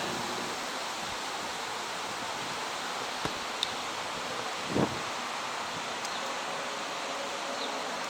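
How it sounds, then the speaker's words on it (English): A wind gust from Tropical Storm Isaias roars as a steady broad rush through trees, with rustling leaves and a brief louder surge partway through. "Here comes a gust."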